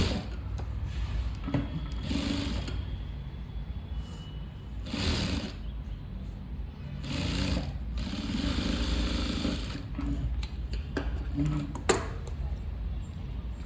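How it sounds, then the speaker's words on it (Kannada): A sewing machine stitches the edge of a puff sleeve in short bursts of motor whir that start and stop repeatedly. The sound is close but fairly soft, with low handling noise between the runs. "ಇದನ್ನು ನಾನು ನೀಟಾಗಿ ಈ ಥರ ಒಂದು ಎಡ್ಜಿಗೆ ಸ್ಟಿಚ್ ಹಾಕ್ಕೊಂಬಿಡಿ ನೀಟಾಗಿ"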